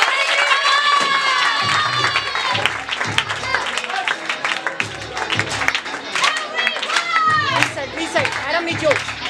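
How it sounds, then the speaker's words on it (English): Audience clapping at a felicitation celebration, a steady wash of applause running the whole time, mixed with lively chatter and children's excited voices close by. "everyone, clap it up."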